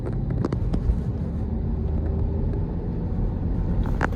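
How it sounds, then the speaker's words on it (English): An Audi TFSI car engine hums with a low, steady rumble while driving, with a few faint clicks over the top. "I'm not sure if the engine noise is translating there, but it sounds really positive."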